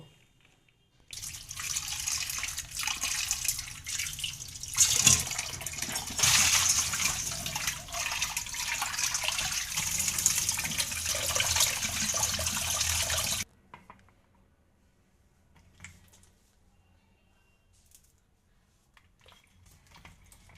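Tap water runs steadily into a sink while soaked lentils and a large eggplant are washed, a continuous close splashing rush for about twelve seconds that stops abruptly, followed by faint handling sounds.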